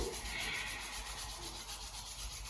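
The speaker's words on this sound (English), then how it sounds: "the minute that you start to lose that heat from your palms, you can rub once again. Build that heat and build that friction" Palms rubbed briskly together to build warmth during a beginner's relaxing yoga stretch, a soft, close, dry brushing friction that swells and fades in gentle strokes, with no voices.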